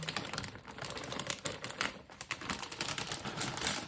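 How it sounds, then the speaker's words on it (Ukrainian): Half a packet of cottage cheese tipped out for a mass-gain shake, giving a steady crackly, crumbly rustle with small irregular ticks throughout, close and fairly quiet, with no voices. "Ось так висипаю пів пакета творога."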